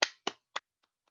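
A few sharp hand claps in a classroom after a student group's article is read: three crisp, close claps in quick succession, the last softest, then faint echo-like ticks in silence.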